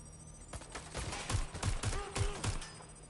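Rapid gunfire bursts in Watch Dogs: Legion, a string of sharp close shots in irregular rhythm over a steady game backdrop, several loud reports clustered in the second half.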